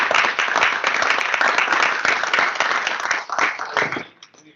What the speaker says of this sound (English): let's give a big round of applause for Blake